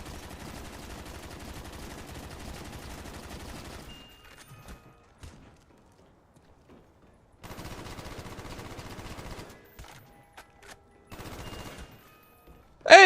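RPK machine gun in Call of Duty Zombies on the Ascension map, long rapid-fire bursts, close and steady, broken by a few seconds of near silence and then two more shorter volleys.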